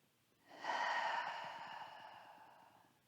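A single long open-mouth exhale during a yoga session, rising quickly, then fading out slowly over about two and a half seconds, breathy and close.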